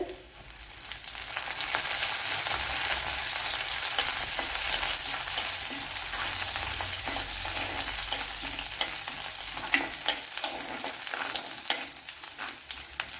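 Garlic, ginger, curry leaves and fenugreek frying in hot oil for a Kerala gooseberry curry, a steady close sizzle with occasional stirring scrapes throughout, no voices.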